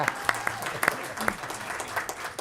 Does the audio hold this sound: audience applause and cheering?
yes